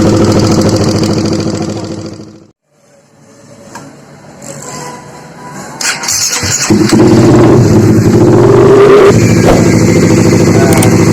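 A rough Honda CBR150 motorcycle engine runs loudly, stops abruptly, then fires back up and revs hard with a clattering, uneven mechanical tone and a knock from the middle of the engine.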